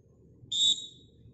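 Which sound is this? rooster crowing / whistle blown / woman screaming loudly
whistle blown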